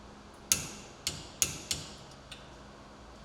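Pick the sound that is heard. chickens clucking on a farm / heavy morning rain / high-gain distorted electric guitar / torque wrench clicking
torque wrench clicking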